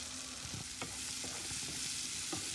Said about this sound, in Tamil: தக்காளி பழத்தையும் போட்டு நல்ல வடிவாக ஒருக்க வதக்கி விடுங்க